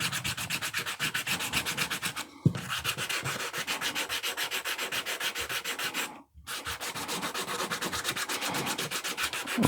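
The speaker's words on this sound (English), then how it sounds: "the sanding wheels are the same for this as they are for jewelry" A rotary tool's sanding wheel grinds steadily against a wooden owl carving, a dense, close abrasive whir with a rapid pulsing texture, broken by two brief pauses around the middle.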